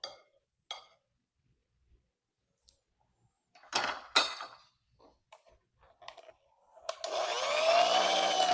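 Electric hand mixer starts up near the end, steady whirring as it blends cinnamon roll ingredients with vanilla, preceded by scattered kitchen knocks and clatter.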